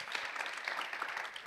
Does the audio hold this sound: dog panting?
no